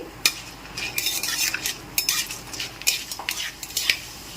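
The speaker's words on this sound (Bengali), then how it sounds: "খুব ভালো করে ফোড়নটাকে নেড়েচেড়ে ভেজে নিচ্ছি" Mustard seed and dried chilli tempering stirred in hot oil for a raw mango dal, with repeated close metal spatula scrapes and clinks against the pan and a low fry underneath, no voices.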